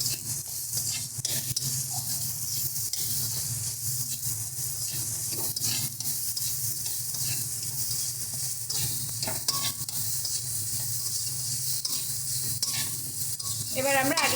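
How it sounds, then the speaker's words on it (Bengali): Boiled potato pieces being stirred with spices in a frying pan, giving a steady, close sizzle with repeated scraping of the spatula throughout and no voices. "ভালো করে মশলাটাকে আলুর সাথে মিশিয়ে নেব।"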